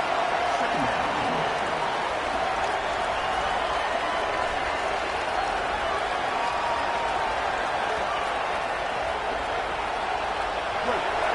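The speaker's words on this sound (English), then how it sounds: "The roar of the crowd trying to fuel this defense to keep them pinned in their own end." In a college football video game, a stadium crowd roars in a dense, steady wall of noise that holds at an even, loud level from start to finish.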